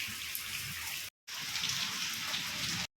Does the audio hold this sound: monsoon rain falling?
yes